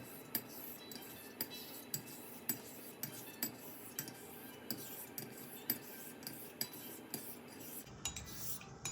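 A straight razor being honed on a whetstone, soft rhythmic scraping strokes repeating about every half second, quiet and close, with no talking.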